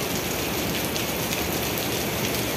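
Heavy rain pours steadily at Kampung Rambutan bus terminal, a dense, even hiss of drops drumming on surfaces that holds at constant loudness throughout, with no voices over it.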